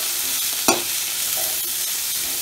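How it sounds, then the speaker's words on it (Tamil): Chilies and tamarind fry in a hot pan for onion chutney, a steady loud sizzle throughout with one brief sharp clank of a utensil near the start and soft stirring scrapes. "நெக்ஸ்ட்டு புளியும் போட்டு நல்லா வணக்கி வச்சுக்கோங்க."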